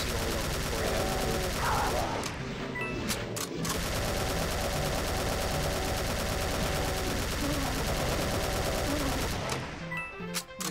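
Rapid weapon fire from the shooter game Doom: The Golden Souls, a steady loud burst of repeated shots running almost continuously, with brief gaps, over a game soundtrack.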